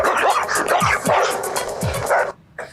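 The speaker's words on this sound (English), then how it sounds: "he down there barking like a real dog" A werewolf character in the Static Shock cartoon barks like a real dog, a burst of rapid, loud barks and yips filling most of the moment before cutting off abruptly.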